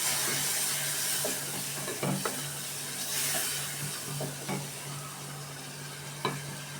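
Hot oil under small fish flares into a loud, steady sizzle with steam hiss after a little water goes in, with occasional utensil taps against the pan and no one speaking.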